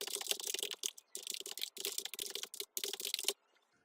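Rapid typing on a computer keyboard, close clattering key presses in several quick bursts separated by short pauses, ending in silence.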